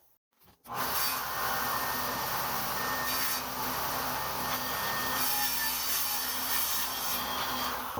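A saw cuts a tongue and groove into a wooden board, a steady, loud, close whine and roar that starts abruptly after a brief quiet moment and holds for several seconds.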